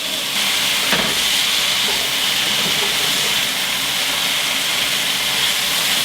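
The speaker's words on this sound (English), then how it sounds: "now I'm still cooking the onions and the peppers, keeping them stirred up" Onions and peppers sizzle in a hot pan as they caramelize, a loud, steady frying hiss that stays close and even throughout.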